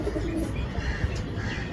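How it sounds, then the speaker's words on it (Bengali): A male Kaldam pigeon at a busy pigeon market gives soft, throaty coos close by, a short continuous burble over low crowd noise. "নর পায়রা, 1500 টাকা।"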